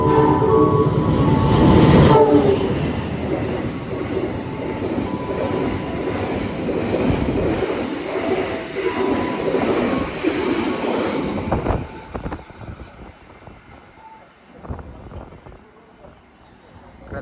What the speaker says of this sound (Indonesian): Melintas langsung kereta api Argo Anjasmara.